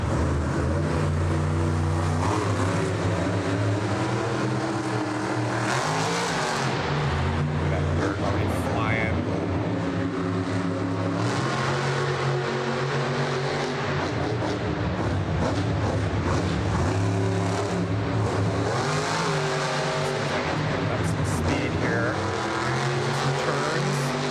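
The Dragon monster truck revs its engine at a show, with loud, continuous roaring and repeated surges in pitch over about 24 seconds as a person talks over it.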